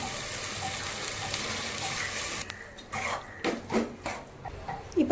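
Water poured into a pot of rice while cooking hotel-style tomato bath, a steady rushing stream that cuts off midway, followed by softer splashes and sloshing in the pot.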